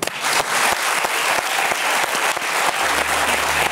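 Studio audience on a French television talk show applauding steadily and loudly throughout, a dense wash of clapping with a low hum entering near the end.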